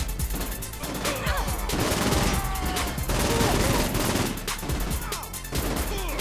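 Dense, sustained gunfire from the Saints Row IV video game, with rapid overlapping shots and bursts filling the whole stretch at steady loudness, with no pauses.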